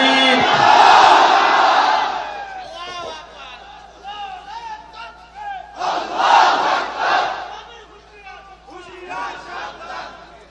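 A large rally crowd in Bangladesh shouts a takbir chant in unison, two loud swelling waves of massed voices with chatter between them.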